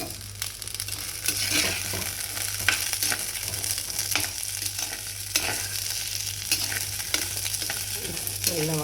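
Green turkey berries sautéing in a hot stone pot, a continuous soft sizzle overlaid with frequent scraping and tapping as they are stirred, close and without speech.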